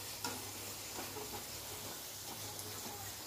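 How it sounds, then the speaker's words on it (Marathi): Momos deep-frying in plenty of oil in a pan, giving a steady soft sizzle with light crackling and occasional stirring scrapes, close and fairly quiet throughout. "खरपूस असं असे मोमोज छान तळून घ्यायचं आपल्याला"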